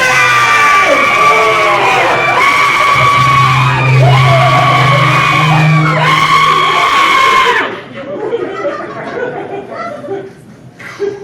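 Volunteers on stage at a hypnosis show scream together in long, loud, sustained yells lasting several seconds, then break off abruptly into scattered crowd noise and laughter.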